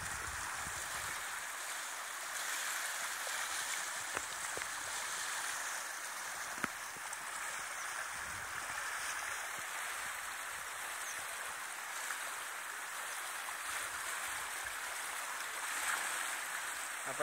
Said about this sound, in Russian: вот здесь протекает оросительный канал.